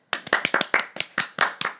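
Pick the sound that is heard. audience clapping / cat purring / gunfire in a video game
audience clapping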